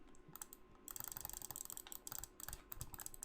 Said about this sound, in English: I don't know if you can hear it, but I'm spam clicking with my finger.